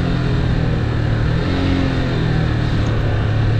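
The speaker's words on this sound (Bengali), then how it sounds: "ইঞ্জিনের সাউন্ড আপনারা নিশ্চয়ই শুনতে পাচ্ছেন কীরকম অবস্থা" A motorcycle engine drones loud and close under engine braking on a downhill run, a steady strained rumble with no break.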